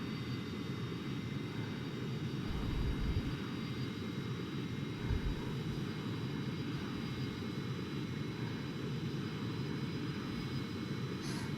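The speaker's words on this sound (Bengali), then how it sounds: "এখন কিন্তু আমাদের এপিইউ স্টার্ট হয়ে গেল।" A Boeing 737-800 auxiliary power unit runs after start, giving a steady, loud, continuous roar and whine that holds constant throughout with no talk.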